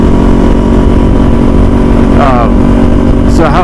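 A 2021 Kawasaki Z400 motorcycle engine running loud and steady while ridden, a continuous close drone with a rising rev near the end, and a voice briefly heard over it.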